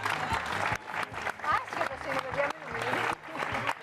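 A game show studio audience claps in warm, mixed bursts while a presenter and others keep talking over the applause.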